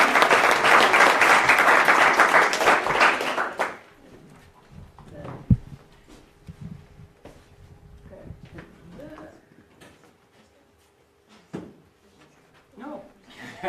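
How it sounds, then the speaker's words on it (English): A room at a business speaking event breaks into loud applause to welcome a speaker, dense clapping for about four seconds before it stops abruptly, leaving quiet room noise, scattered knocks and a voice talking. "with a raucous applause"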